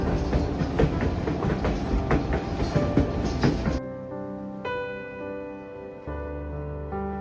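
Train on the Skagway gold rush railroad in Alaska, a steep mountain line, with dense rolling rumble and rattling wheel noise for nearly four seconds before giving way to quieter, steadier tonal sound.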